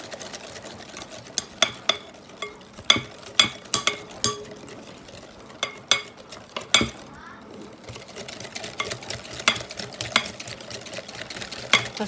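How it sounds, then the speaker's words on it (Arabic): Iraqi Najaf dahina is stirred in a pot while flour is added, with irregular scraping knocks of the spoon against the pot and faint talk in the background. "هسه هذا ظل اخلط فيه حتى افرغ الطحين عليه."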